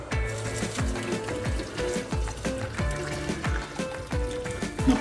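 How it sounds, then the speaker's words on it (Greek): Hot water pouring into the drawer of a Ninja Foodi FlexDrawer air fryer, a continuous trickling and splashing with a bubbly, gurgling rhythm lasting several seconds. "Ο κατασκευαστής της φριτέζας προτείνει να ρίξουμε ζεστό νερό,"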